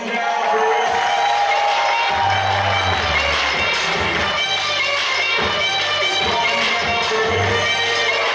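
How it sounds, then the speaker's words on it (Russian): A large audience at a KVN comedy show cheers, whoops and applauds loudly and continuously, a dense roar of crowd noise with shouts rising above it throughout. "мы начинаем игру под ваши громкие несмолкаемые овации"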